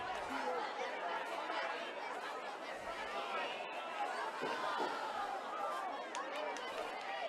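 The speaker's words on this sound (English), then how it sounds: "Crowd getting excited." A high school football crowd at a St. Mary's Prep night game, a steady wash of excited chatter and cheering from the stands, constant and moderately distant throughout.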